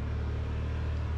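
A 2024 Yamaha Wolverine X2 1000 side-by-side drives with a steady, low engine drone and rumble that stays even throughout a brief stretch, close and with no voices.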